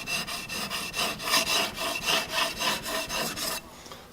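Okatsune pruning shears are drawn over a 600 grit sharpening stone in about a dozen even, rhythmic rasping strokes along the stone's length, close and clear, then the scraping stops.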